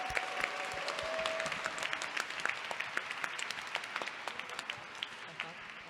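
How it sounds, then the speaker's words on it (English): Applause at a university showcase event, a moderate crowd clapping with distinct individual claps audible, steady at first then thinning out, with some voices mixed in. "a big round of applause for Mamma Mia"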